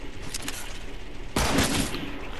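Gunfire in the video game Fortnite comes as a few faint distant pops, then one louder burst of shots at about the middle, over continuous game background noise.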